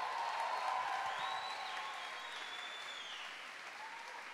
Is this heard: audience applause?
yes